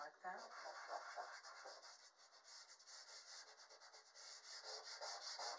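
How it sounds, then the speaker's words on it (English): Soft rubbing friction, a quiet continuous scratchy swish repeating in short back-and-forth strokes, close up and faint. "Be careful with rubbing."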